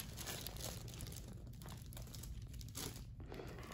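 A baby crinkles and crumples paper in a continuous rustle of crackles, close by and fairly loud, with no talk over it.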